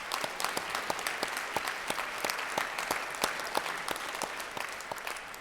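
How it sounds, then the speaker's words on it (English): A Rotary club meeting audience gives a round of applause, dense, continuous clapping from many hands at moderate distance, steady throughout with sharp individual claps poking through the wash. "Linda Muth, let's give her a round of applause"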